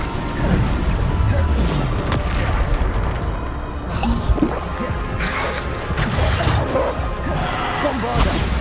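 Bombarda explosion spells in Hogwarts Legacy: dense, loud booms and crashing impacts with whooshing bursts, repeated throughout amid continuous battle clamor.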